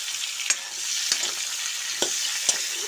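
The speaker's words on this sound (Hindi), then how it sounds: "तो आम को 2-3 मिनट तक हम फ्राई कर लेंगे इस तरह से चलाते हुए।" Mango pieces frying in a pan for mango launji, with a continuous bright sizzle and a handful of spatula scrapes and knocks as they are stirred, close and steady, no talking.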